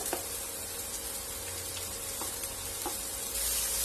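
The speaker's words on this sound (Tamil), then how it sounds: "வெங்காயம் ஓரளவு சாஃப்ட் ஆகணும், அது வரைக்கும் இதை நல்லா வதக்கிக்கலாம்" Finely chopped onion sautés in a pan with a soft, constant sizzle and occasional faint stirring taps, fairly quiet and close, with no voices.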